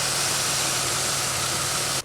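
A car engine with an injector fault idles steadily with a constant hissy, rumbling drone, close by and unchanging, no voices.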